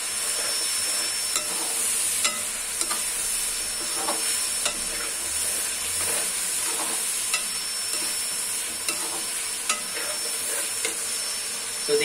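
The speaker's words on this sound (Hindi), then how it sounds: "इस तरफ हमारा मसाला अच्छे से भून रहा है" Spice masala for biryani frying in a pan, a steady close sizzle with frequent light scrapes and stirs over a constant hiss.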